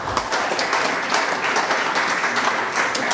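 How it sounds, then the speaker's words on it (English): Applause from a crowd at the launch of the Corporate Area Development Track and Field Meet, honouring Dr. Long; dense, steady clapping fills the whole stretch at full, even loudness with no voices over it. "give her a round of applause for me"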